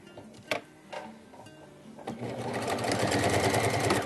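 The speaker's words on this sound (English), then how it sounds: "we're just going to sew these two pieces together straight across" Sewing machine straight-stitching binding onto a terry cloth burp cloth, starting after a few clicks and handling knocks, then building into a steady, close mechanical whir that runs to the end.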